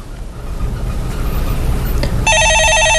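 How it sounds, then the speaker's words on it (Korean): A telephone starts ringing near the end with a loud, steady electronic trill, cutting in over a busy background hum. "예, 전화 받아보겠습니다."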